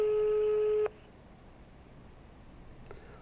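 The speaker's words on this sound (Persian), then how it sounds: "داره تلفن زنگ میزنه اما ایشون جواب نمیده" Telephone tone on an unanswered call plays as a steady electronic tone that cuts off abruptly after about a second, followed by near silence and a faint brief tone later.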